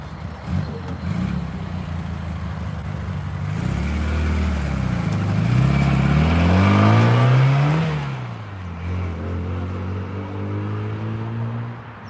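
A modified Morris Minor car engine revs up in rising and falling surges, climbing to a loud peak before settling back to a throaty rumble, heard nearby outdoors.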